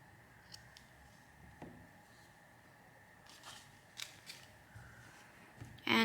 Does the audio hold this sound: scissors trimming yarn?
yes